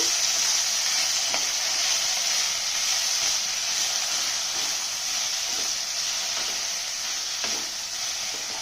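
Onion, tomato and chili sizzle steadily in oil over a medium flame for goat leg soup, a constant close hiss broken by occasional stirring scrapes.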